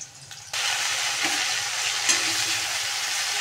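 Chopped amaranth greens drop into hot oil with fried green chilli and garlic, setting off a sudden loud sizzle that then hisses steadily, close up.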